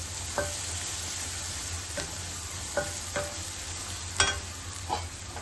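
Steady sizzling of food sautéing in a pan before greens are added, broken by a few scraping taps of a spoon stirring, close and continuous with no voices.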